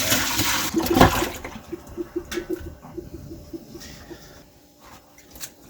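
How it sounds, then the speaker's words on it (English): A large pot of water from boiling salt beef for Newfoundland Jiggs dinner dumped into a colander, a loud rushing gush followed by gurgling, draining pulses that fade away. "what we're just going to do is dump it all out into this colander"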